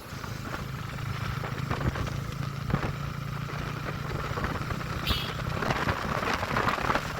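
A Royal Enfield-style ride is not stated; a motorcycle, one of three bikes including a Ronin 225, ridden along a forest road near Susunia hill in Bankura, gives a steady mid-pitched engine drone with wind rumble throughout.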